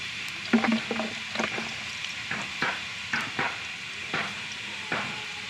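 Oil heats in a wok for cooking, with a light sizzle beneath a series of sharp metallic scrapes and clinks from a utensil, recurring roughly every half second to second, close by and unaccompanied by talk.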